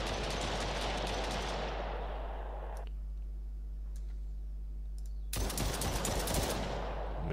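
Pistol firing in an Unreal Engine 5 weapon setup: a dense burst of loud gunfire fades out, a quiet gap follows, then another sharp burst of shots erupts near the end.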